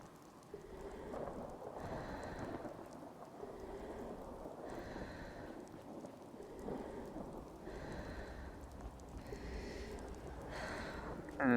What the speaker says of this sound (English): You get like some rain effects on your